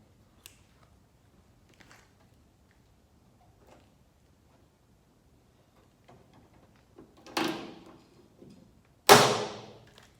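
A hand rivet gun sets a trim clip rivet on a 1969 Ford Bronco, with two sharp, loud snaps near the end that follow quiet handling clicks and small taps, close by.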